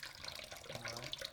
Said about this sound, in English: But I do always wash my meat.